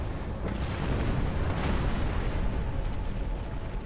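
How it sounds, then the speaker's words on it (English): A starship blowing up in the video game Star Trek Online, a loud sustained roaring blast with a deep rumbling body that stays heavy for several seconds and only slowly eases off. "The Nakul vessel has been destroyed."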